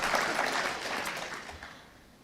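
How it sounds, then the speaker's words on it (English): Audience clapping at a live talk show taping, a burst of applause that swells briefly and then fades away, fairly faint and distant. "you can clap, I don't care"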